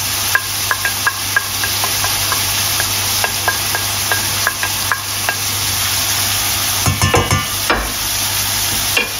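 Shallot and garlic frying in a pan for salmon cream pasta, a loud continuous sizzle with repeated light scrapes and taps of a spoon stirring, close and alone.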